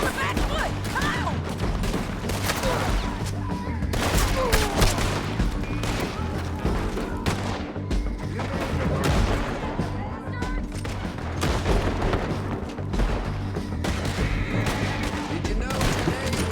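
Relentless gunfire fills a video game battle, dense overlapping shots and bursts rattling throughout, with shouting voices over the din.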